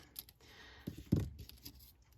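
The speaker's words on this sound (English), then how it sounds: "I'm just lining my scissors up with that kind of stitched line underneath" Crisp snips of scissors cutting through paper, a few close, distinct cuts with one louder snip near the middle, no talking.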